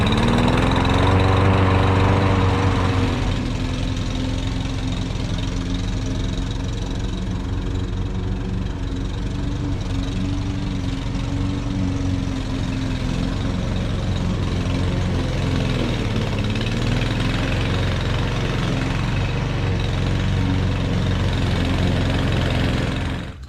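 A Briggs & Stratton 550EX lawn mower engine runs steadily after a carburetor cleaning, loud and close, with its pitch wavering slightly as if surging, until it cuts off at the end.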